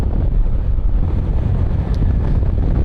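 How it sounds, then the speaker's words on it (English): Steady, loud wind buffeting and fluttering on a rider's microphone while riding a BMW C400X SE scooter on the road, a continuous low rumble that fills the whole stretch with no speech. "I am getting a little bit of fluttering wind blast on my face, basically."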